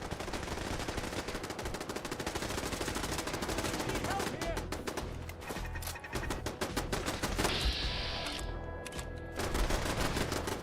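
Sustained automatic gunfire in Fallout 4 against super mutants, dense rapid bursts rattling continuously throughout, loud and near, with a brief shift in the middle and people talking over the shooting.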